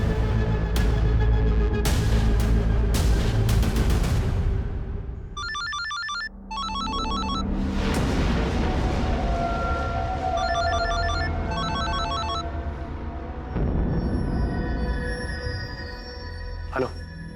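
A telephone rings with bursts of pulsing electronic trills over loud background music and other sounds, repeating several times at moderate volume.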